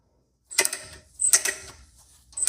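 A hand ratchet cranks up a heavy UTV implement in close, loud bursts of clicking and creaking, three strokes with short pauses between them.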